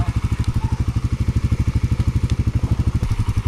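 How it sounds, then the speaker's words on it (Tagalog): A repaired motorcycle engine runs close by, pulsing in a fast, steady, even rhythm with no speech over it. "Yang motor ni Kautoy, naayos na yan."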